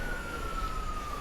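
An emergency vehicle siren wails on a Jerusalem street as a steady, unbroken tone that glides slowly downward, sitting loud over dense traffic and street rumble.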